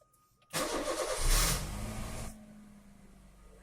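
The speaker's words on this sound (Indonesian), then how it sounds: "kita nyalakan mesin dan AC-nya." A car engine cranks and catches after a short pause, revs briefly, then settles into a low steady idle.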